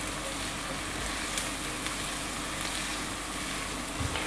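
Frying in ghee over medium heat while making qeema kachori, a steady dense sizzle that stays even throughout with a few faint clicks, heard alone and fairly close.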